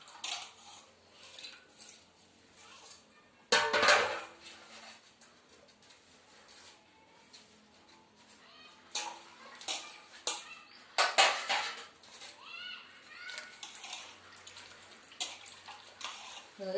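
Vegetables and garden greens gritty with farm soil are rinsed in water, with splashing bursts and clatter of a vessel rising over quieter stretches of trickling water, near and moderately loud, no talk.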